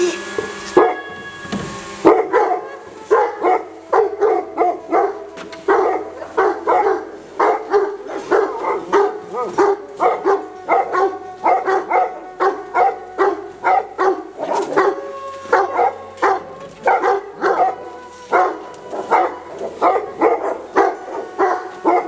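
A Serbian defense dog barks repeatedly in a fast, steady rhythm, loud and close, with the barking continuing throughout and no talk over it.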